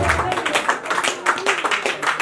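Brief burst of clapping at a traditional wedding, several hands beating irregularly under voices and crowd noise.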